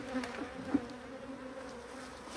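Honeybees swarming around a wooden hive box with a honey super, giving a steady, close buzzing drone with a few louder passes near the microphone.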